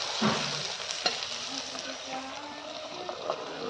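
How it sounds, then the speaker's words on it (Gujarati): Onions sizzle in hot oil while being stirred, a close crackling hiss broken by scraping stir strokes, with a voice talking over it. "ડુંગળી નાખીને ડુંગળી છે ને એને સડેતા લગીને હલાય હલાય કરવાને આવે"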